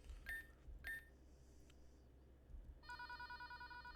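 A telephone rings in the video game Pokémon Rejuvenation, with two short electronic ring bursts followed by a longer pulsing chime, all fairly quiet behind low background hum.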